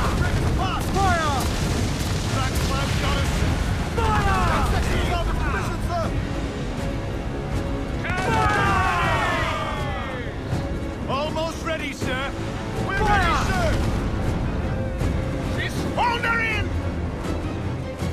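Ship cannons firing in Assassin's Creed IV: Black Flag naval combat, heavy booms and blasts repeating through the clip amid sea and battle noise, with voices shouting over the gunfire.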